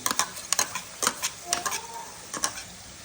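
Tomato puree cooks in a hot pan with cumin, giving a soft sizzle beneath a series of distinct scraping strokes and taps from a spoon being stirred through it.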